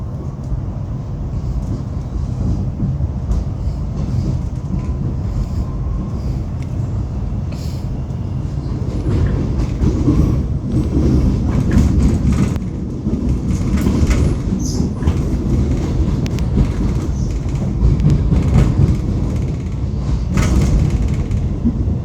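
Trains rolling over crossovers at Dandenong Station, a busy suburban rail junction, with continuous low rumbling and rattling wheel noise, intermittent clanks and clicks rising in intensity through the middle and end, fairly close and loud throughout.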